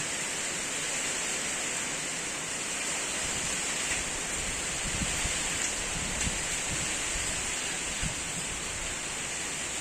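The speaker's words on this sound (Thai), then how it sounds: "เริ่มตกแล้ว ลมก็แรง" Heavy rain falls with strong wind at a rural home, a steady, loud hiss of downpour with no break, interrupted only by a few faint low knocks.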